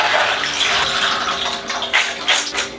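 Cooked beans being drained, with water pouring and splashing steadily through a strainer at close range, rushing continuously with a few brief surges near the end and no voices.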